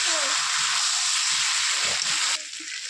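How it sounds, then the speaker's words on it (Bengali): Potatoes and mutton sizzling in a pan as they are stir-fried, a steady bright hiss with soft scraping and stirring thumps underneath, easing slightly near the end. "আলুগুলোকেও দিয়ে দেব দিয়ে মাংসের সাথে ভালোভাবে কষবো"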